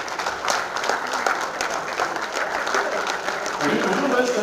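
An audience at an Interior Designers Association of Nigeria meeting claps for members who travelled in, a dense burst of hand claps with crowd voices underneath, rising slightly toward the end.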